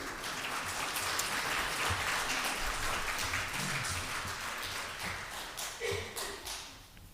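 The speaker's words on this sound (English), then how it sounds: "clapping just doesn't meet the decorum of these meetings" Audience clapping at a city Board of Aldermen meeting, a dense steady patter of many hands through most of the stretch, thinning toward the end into a few scattered claps.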